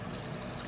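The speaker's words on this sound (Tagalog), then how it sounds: "Okay na mga sanggay. Buhos na natin." A brief, soft splash of broth pouring steadily over kinilaw, close by, with no voices.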